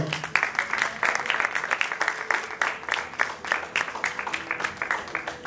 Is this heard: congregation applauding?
yes